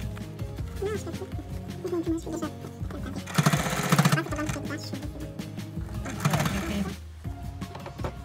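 A sewing machine stitches fabric for a chair cover in quick rattling bursts, including two louder fast runs, while someone talks throughout.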